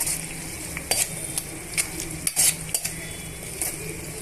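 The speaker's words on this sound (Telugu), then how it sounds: "కరివేపాకుని యాడ్ చేసిన తర్వాత ఇవన్నీ కూడా బాగా వేయించుకున్నామండి" Curry leaves frying in an oil-filled pan for cashew upma, with a steady sizzle broken by sharp crackles and a few clinks of a spoon stirring against the pan, close and fairly loud with no talking.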